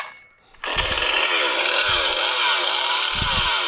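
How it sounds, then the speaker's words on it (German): Toy chainsaw sound effect from a Nerf MP-ZZ blaster, a loud, steady buzzing motor drone that starts abruptly after a brief quiet and runs continuously with slight revving pulses. "Natürlich noch sehr geil ist, dass ich quasi den Sound auch für die Kettensäge habe"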